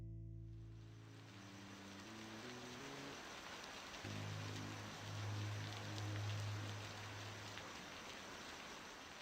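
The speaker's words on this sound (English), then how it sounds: "It begins to rain." Steady rain hisses evenly in the Roblox game Bloxtown, a soft continuous wash that plays alone under a few low, fading musical tones.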